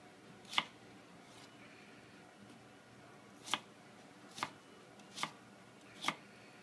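A knife dices potatoes on a cutting board for clam chowder, five sharp, fairly quiet chops spaced irregularly, the last four coming in quicker succession.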